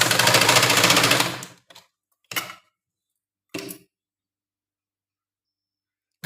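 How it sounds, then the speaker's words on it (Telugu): An electric sewing machine runs a seam around blouse cloth in a loud whirring burst, followed by two short stitching spurts separated by silence. "ఇప్పుడు మనం చుట్టూరా అనిగే కుట్టు వేసుకుందాం పెద్ద కుట్టు పెట్టుకోండి"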